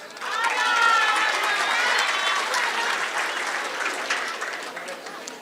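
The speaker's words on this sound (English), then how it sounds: "Let's give our foundation teaching graduates a round of applause." A graduation crowd in Gauteng applauds for several seconds, a thick wash of many hands clapping with some cheering and murmured voices, swelling early and then slowly easing off.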